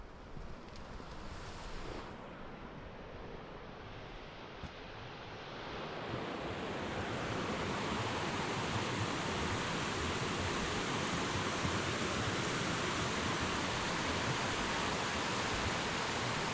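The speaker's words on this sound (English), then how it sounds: "This is a river that takes you down to the Strid." A river in the Yorkshire Dales rushes toward the Strid as a continuous, broad roar of flowing water. It swells noticeably louder after the first few seconds and holds steady, with no voices.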